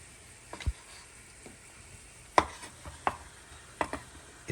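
A knife cuts through chorizo sausage on a cutting board, a few sharp, separate chops spaced irregularly against a quiet kitchen background, close and clear.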